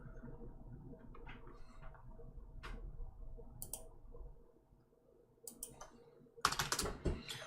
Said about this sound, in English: He is typing.